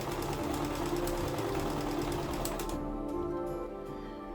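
Sewing machine stitching fabric for a medieval Viking shift underdress, a fast continuous mechanical chatter up close that slows and softens near the end, with no talking.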